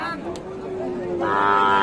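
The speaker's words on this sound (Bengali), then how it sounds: "তিনটা কিন্তু শাহিওয়াল জাতের সুন্দর গাভী বাচ্চা" A Sahiwal cow lows in a long, drawn-out moo that rises in strength toward the end, close and loud, at a busy cattle market with faint crowd chatter behind.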